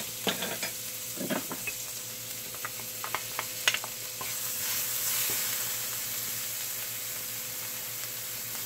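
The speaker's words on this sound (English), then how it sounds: "So, I'm going to take the scallions and put those in there" Scallions and red onions sautéing in oil while chicken piccata is prepared, a close sizzle with several sharp stirring clinks early on, then an even, softer frying hiss with no one speaking.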